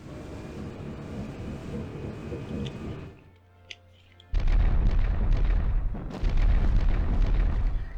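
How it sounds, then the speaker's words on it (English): Heavy booming explosions from naval bombing in the WarPlan strategy game, a rumbling barrage that drops briefly to near silence before resuming loud and dense. "some naval bombing by the Red Air Force"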